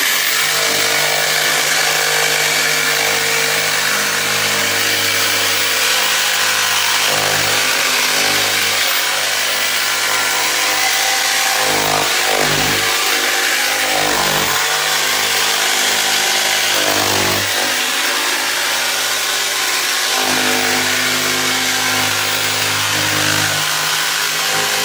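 A jigsaw cuts through wood with a loud, continuous buzzing whine. The pitch and strain shift slightly as the blade is guided along the cut, and no voices are heard.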